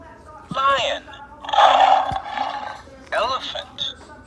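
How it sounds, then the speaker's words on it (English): A lion roars and grunts in three loud, rough bursts separated by short pauses, nearby and with no other sounds. "Lion."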